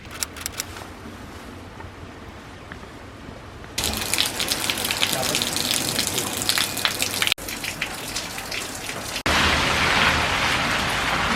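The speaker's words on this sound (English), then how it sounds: "It's absolutely pouring with rain." Heavy torrential rain pours down at Akaroa, New Zealand, a dense steady roar of drops that grows louder in sections, with no voices over it.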